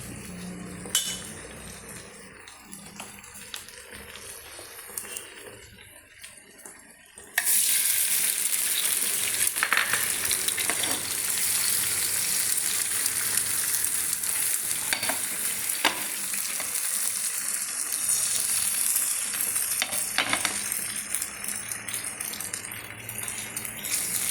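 An egg fries in a pan for an omelette, first with quiet stirring and clinks, then a loud, steady hiss and sizzle that keeps going after it hits the hot oil.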